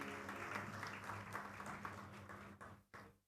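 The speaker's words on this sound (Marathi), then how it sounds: "सगळ्या वादकांसाठी पुन्हा एकदा टाळ्या होऊन जाऊ दे" An audience claps for the musicians after a song at a Marathi music program, a soft, scattered round of applause that thins out and ends with a few last claps.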